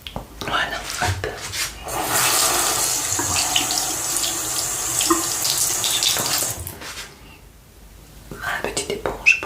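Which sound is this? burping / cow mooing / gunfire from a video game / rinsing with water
rinsing with water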